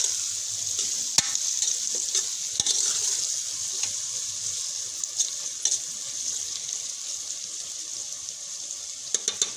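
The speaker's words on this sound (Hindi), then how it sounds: "तो अभी इनको भी मिक्स कर लेते हैं।" Tomatoes and chillies frying in a pan with okra masala, a steady hissing sizzle broken by scattered clicks and scrapes of a spoon stirring against the pan, close and without talk.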